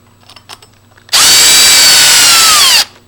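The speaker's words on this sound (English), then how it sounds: "and again I'm going to use a drill driver for this." A drill driver runs one loud, close burst of about two seconds, driving a screw into the installation ring of a lever lock on a door, after a few quiet handling taps.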